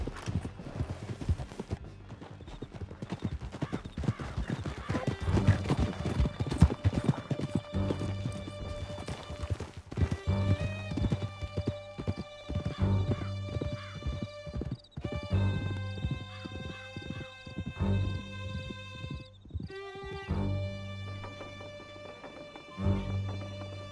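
Horses gallop hard in Red Dead Redemption 2, their hooves clattering in a dense, continuous clip-clop while horses neigh and whinny over the top, close and loud with no voices.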